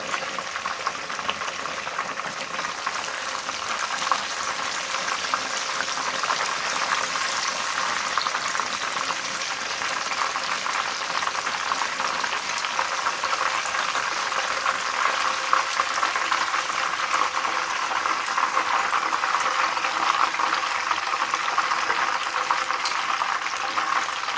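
Fish frying in a pan for a Lahori-style fish fry: a dense, steady sizzle of hot oil, loud and close, continuing unbroken with no talk.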